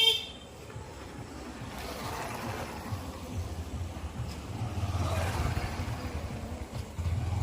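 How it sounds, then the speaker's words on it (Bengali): On a near-empty road late at night during Durga Puja's Ashtami, a couple of motorbikes swell past one after another, rising and fading over a low steady hum, with a brief horn-like tone. "বাইক রাস্তা দিয়ে পাস হচ্ছে"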